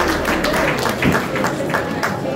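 An audience applauds a nominee at an awards event, a loud, dense and continuous patter of many hands clapping close by, with some crowd noise mixed in.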